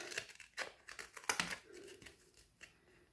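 Scissors snip through Velcro strips, cutting them into quarters: a few crisp, close cuts with crinkly rustling between them.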